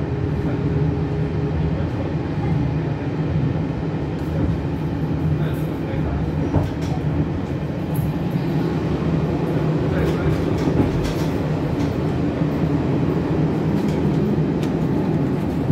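A Fu-Hsing passenger train hauled by an E418 electric locomotive departs Hualien on the North-link line, a continuous loud rumble and rolling of rail cars that stays steady throughout with no clear speech.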